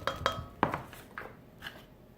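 Chocolate chips drop into cookie dough in a bowl, giving a few sharp clinks and rattles against the bowl in the first second, then softer scattered taps that fade out.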